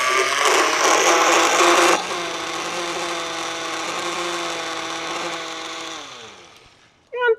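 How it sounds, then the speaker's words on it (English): A kitchen blender whirs through crepe batter with a steady, loud motor drone that drops in pitch after the first couple of seconds, then winds down near the end before a brief clatter. "we're just going to blend this for 1 minute"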